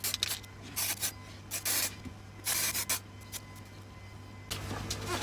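Bursts of aerosol spray paint hissing onto a 3D-printed action figure, several short blasts and a few longer ones, close by over a low steady hum.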